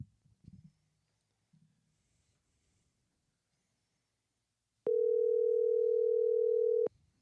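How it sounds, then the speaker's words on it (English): A steady telephone tone sounds after a couple of soft knocks and a quiet pause, holding clear and unbroken for about two seconds before cutting off, as an outgoing call connects. "We're ringing. That's half the battle."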